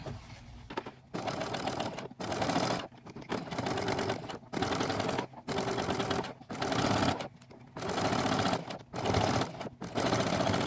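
A sewing machine stitches around the neckline of a blouse being upcycled into doll clothing, running in repeated bursts of steady rapid needle chatter about a second or more long, separated by short pauses, close and fairly loud.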